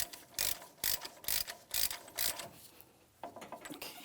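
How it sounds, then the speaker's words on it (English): A hand ratchet clicks repeatedly while snugging the front axle nut on a 2007-2014 GMC Sierra 2500 HD during a wheel bearing and hub replacement, with about five evenly spaced bursts of sharp clicking, then lighter, quicker clicks, close and clear. "Now when we tighten this axle nut, we have to do it by hand."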